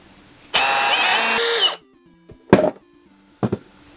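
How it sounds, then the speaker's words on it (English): A power drill whirs loudly for about a second through a 3D-printed part, then two short bursts of drilling follow, close by with quiet pauses between. "So I've got a drill bit that is the proper size for this, and we'll just drill right through it."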